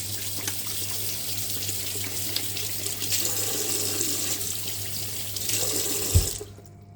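Tap water runs steadily into a kitchen sink during hand washing, a constant close splashing hiss that ends abruptly with a final gurgle as the faucet is shut off.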